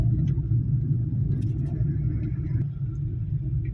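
A car drives during a driving lesson with a steady, loud low engine rumble throughout. It holds a constant drone with no clear rise in revs.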